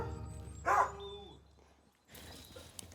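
A dog in a saddler's workshop gives one short, sharp bark close by, then the room falls quiet before a low background hiss returns.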